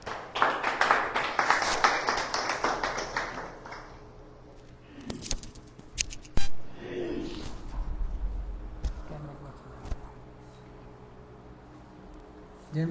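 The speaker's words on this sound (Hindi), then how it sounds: "धन्यवाद आप सबके लिए जो हमने तालियां बजाई।" A congregation claps together at a Sunday prayer service, a burst of applause in the opening seconds that fades into scattered taps while a voice speaks.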